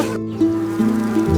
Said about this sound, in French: Les abeilles bourdonnent tranquillement partout.